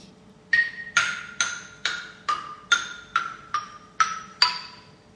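Nine wooden bars of a Thai xylophone (ranat) are struck one after another, smallest to largest, at an even pace, each ringing briefly, the pitch stepping steadily lower.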